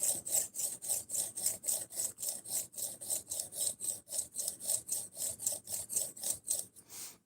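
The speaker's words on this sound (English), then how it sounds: "Yep, this is how I sharpen all my knives." Knife blade being sharpened on a stone or strop, a steady rhythmic run of about twenty-two scraping back-and-forth strokes, close and even, with no talk.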